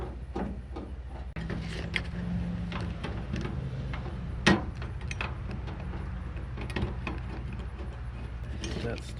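Lower screw being driven into the door of a 1988 Chevrolet Suburban, an aftermarket door shell, giving a steady run of ratcheting, mechanical clicks with one sharp metallic knock, close by and with no talk.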